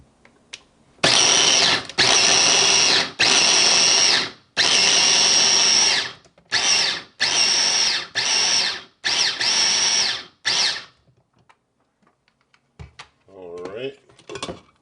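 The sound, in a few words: blender grinding peanuts into peanut flour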